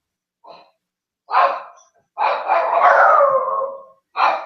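Dogs howling in response to a doorbell: a short yelp, then a rising howl, then a long wavering howl, with another howl starting at the end. Close and fairly loud, with no talking.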